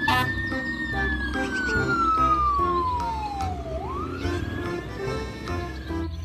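A wailing siren sweeps down in pitch and rises again, steady and fairly loud, like a toy fire truck, over a busy low rumble.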